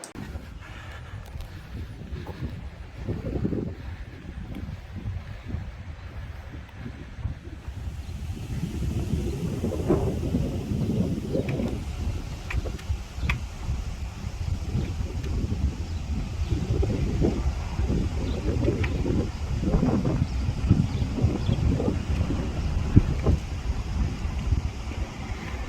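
Wind blows steadily outdoors near a prison, buffeting the microphone with a continuous low rumble that swells and gusts over the whole stretch, with no talking.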